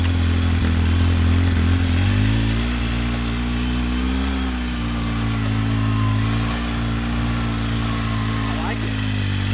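A car engine with a failing crankshaft sensor runs roughly at a steady loud drone, its low rumble wavering unevenly throughout, with no voices over it.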